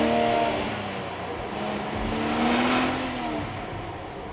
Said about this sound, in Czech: tomu prošlápnete ten plyn na podlahu, tak najednou se ukáže ten šestiválcový bavorácký motor